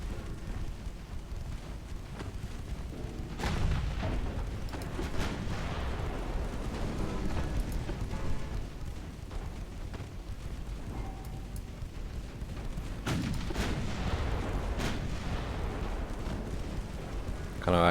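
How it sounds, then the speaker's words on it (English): Naval gunfire from 9-inch guns aboard a 1900-era British warship in Ultimate Admiral Dreadnoughts, heavy booming salvos rolling out at irregular intervals over a constant rumbling battle din, with several louder blasts standing out. "keep those 9-inch guns firing"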